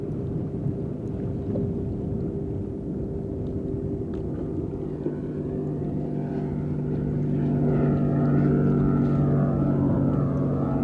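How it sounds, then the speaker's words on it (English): A steady low fishing boat motor drone rumbles throughout, growing slightly louder toward the end as the boat comes closer, with no talking. "the boat's getting back"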